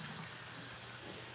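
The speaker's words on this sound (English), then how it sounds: "after cleansing, I'm just gonna rinse my face off" Tap water running into a bathroom sink while a face is rinsed during a nighttime skincare routine; a short, close, continuous splashing rush with no talk.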